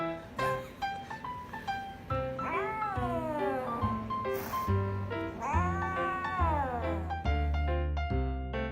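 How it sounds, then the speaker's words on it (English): A greedy house cat meows and yowls again and again in loud, drawn-out, rising and falling cries, close by and continuous, while people stay silent. "Greedy kitty."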